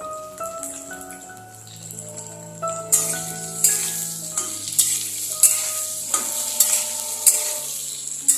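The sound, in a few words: frying onion and capsicum on high flame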